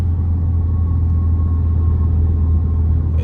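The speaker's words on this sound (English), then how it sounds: "I know y'all hear that mini whine, even though there's no supercharger in this bitch." A car engine drones steadily at close range, heavy low rumble under a faint thin whine from the intake, with no supercharger fitted, constant and unbroken with no talk.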